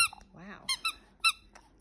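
A squeaky dog toy from a BarkBox gives several short, high squeaks in quick bursts, close and fairly quiet, with a brief vocal sound near the start.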